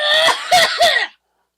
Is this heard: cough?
yes